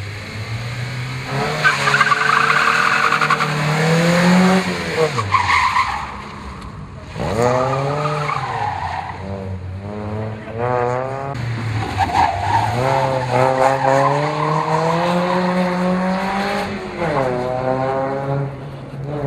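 Car engines rev and whine with pitch sweeping up and down as cars skid and accelerate through tight maneuvers in a driving skill contest, loud and continuous.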